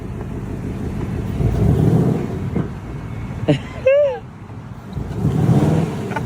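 A car engine revs up and settles back at a car event, a steady motor drone that swells at moments, with people talking and a short whistle-like voice over it.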